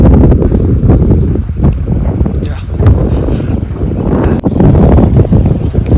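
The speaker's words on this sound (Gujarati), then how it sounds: "એટલો ઠંડો પવન આવે છે ને મોજ પડી જાય" Strong cool wind buffets the microphone on open village farmland in a steady, loud roar with gusty low rumbling throughout.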